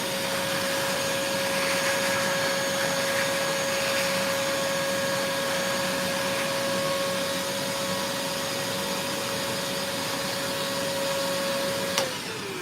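A steady, loud vacuum cleaner drones with a constant whine for about twelve seconds, then cuts off abruptly near the end.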